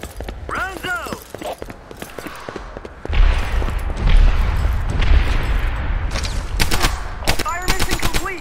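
Artillery HEAP shells strike a reinforced concrete casemate in the Medal of Honor: Airborne game, a run of heavy, booming impacts from about three seconds on, loud and rumbling, with scattered gunfire and radio voices throughout.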